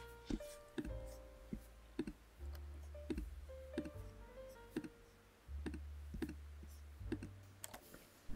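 Someone types on a computer keyboard while building a web page, with sharp individual key clicks in an irregular rhythm, quiet and close, alone beneath a faint hum.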